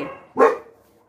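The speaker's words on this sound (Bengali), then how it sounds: "বাইরের সব কুকুরগুলো ডাকছে" A single sharp bark from a dog outdoors rings out clearly, followed by quiet.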